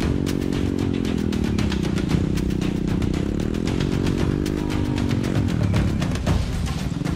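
A motorcycle taxi engine runs steadily and close by on a narrow, slippery plantation road, a continuous buzzing drone with slight shifts in pitch as it rides along, no voices.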